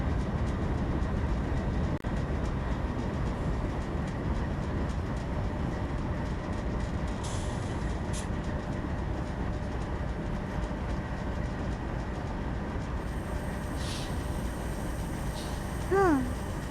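A freight train in a video game rumbles steadily along with a low continuous drone and faint rail clatter, and a short rising horn-like tone sounds near the end.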